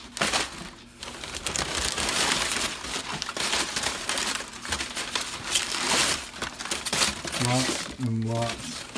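Packing paper rustles and crinkles steadily as it is pulled from a mailed box, loud and close throughout, with a person speaking briefly near the end.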